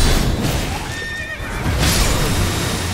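A horse whinnies in a rising, wavering call in the video game Elden Ring, over a dense background of game noise and rumble, with brief hoof-like clatter.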